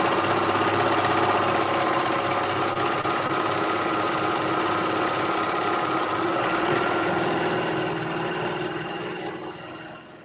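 An overlock serger stitches a rolled edge on linen, a steady whirring motor hum with fast rhythmic needle chatter running continuously and close, easing off slightly at the end.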